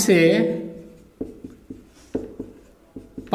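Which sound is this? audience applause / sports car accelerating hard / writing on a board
writing on a board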